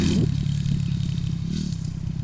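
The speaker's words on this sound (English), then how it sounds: "Fast motorbike, that." A fast motorbike roars past close by, its engine droning loudly with a brief pitch swell as it goes by.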